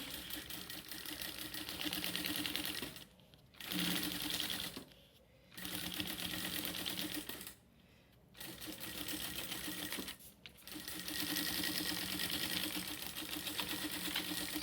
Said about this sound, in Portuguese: Passa a costurinha.